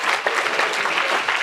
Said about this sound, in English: Give an applause to all these devotees.